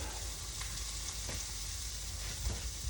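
Sliced squash and zucchini sizzle on a hot grill, a steady, close crackling hiss with a few soft taps as pieces are flipped.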